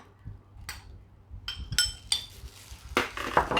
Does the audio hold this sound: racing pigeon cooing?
no